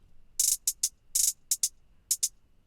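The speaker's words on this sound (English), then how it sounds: "the hi-hats are moving back and forth through the left and right speaker," Crisp hi-hat hits in a quick, uneven pattern, some short and tight, others longer and more open, played alone and fairly loud.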